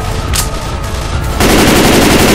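Rapid automatic gunfire from a survivor in Left 4 Dead 2, fired on a Tank in expert solo play, starting as a sustained loud burst partway through after a quieter stretch of game ambience.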